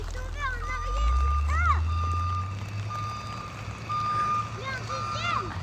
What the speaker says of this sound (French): Viens chasser la neige là, le chasse-neige. Ça, c'est ouf, il dégage la route pour les voitures.